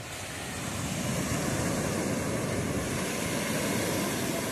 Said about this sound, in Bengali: কত সুন্দর ঢেউ, দারুণ মজা।